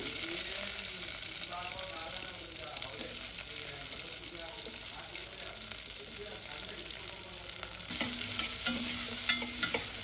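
Coarsely cut onions frying briefly in hot oil for a sweet potato curry, giving a steady, even sizzle that grows somewhat louder and busier near the end.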